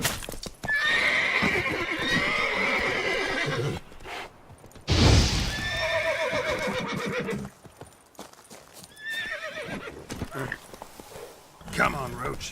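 Roach, Geralt's horse in The Witcher 3, whinnies loudly and clops its hooves in a game scene, with several neighs breaking through steady hoofbeats and other game sounds.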